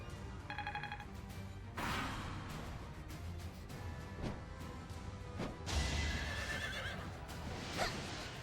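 A pegasus whinnies in the Fire Emblem Three Houses video game, a loud neighing call amid battle clashes and impacts, with no talking over it.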